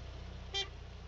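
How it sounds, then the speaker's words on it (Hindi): In the Gas Station Simulator video game, a car horn gives a single short toot, faint and brief against a low steady engine hum. "तुम जल्दी निकलो वो हॉर्न बजा रही है"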